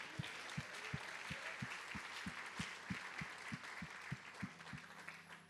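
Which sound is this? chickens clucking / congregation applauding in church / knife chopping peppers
congregation applauding in church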